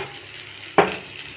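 Spices hit hot oil in a pan, a sudden sharp sizzle bursting up over faint background hiss and then fading quickly.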